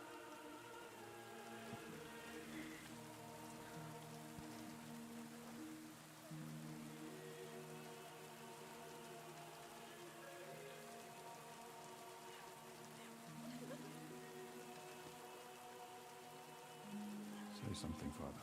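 Rain falls in the medieval Bohemia setting of Kingdom Come: Deliverance 2, a soft steady patter under a sustained musical score, with a brief louder swell near the end.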